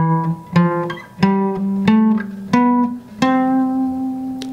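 Guitar notes ascending a major scale, each plucked note ringing clearly in a steady, even rhythm of about seven or eight notes, played alone and close.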